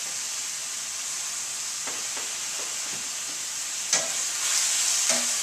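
Tomatoes dropped into a hot pan sizzle with a steady bright hiss, broken by a few stirring clatters and a louder splash of sizzle near the end; no talking.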